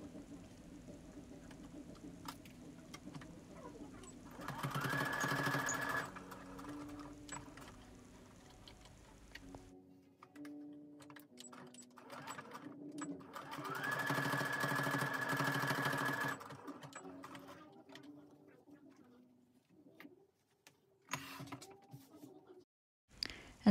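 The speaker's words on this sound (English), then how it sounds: "bring it to your sewing machine and then we're ready to sew the edge." A sewing machine whirs in two bursts of rapid stitching along the edge of a shirt-fabric face mask, each lasting a few seconds, separated by quieter handling clicks and rustles nearby.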